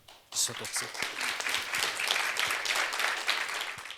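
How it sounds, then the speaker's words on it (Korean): An investment conference audience welcomes a speaker with applause that breaks out suddenly and holds steady, a broad rush of clapping filling the hall, with some voices mixed in. "큰 박수로 맞이해 주시기 바랍니다"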